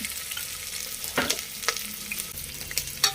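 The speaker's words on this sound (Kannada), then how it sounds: "ಈರುಳ್ಳಿ ಒಳ್ಳೆ ಕಂದು ಬಣ್ಣ ಕೆಂಪಾಗಿ ಬರಬೇಕು ಅಲ್ಲಿ ತನಕ ನೀವು ಫ್ರೈ ಮಾಡ್ಕೋಬೇಕು" Chopped onion and green chillies frying in oil for fenugreek leaf pulao, a soft continuous sizzle with occasional stirring clicks and scrapes, close by and fairly quiet.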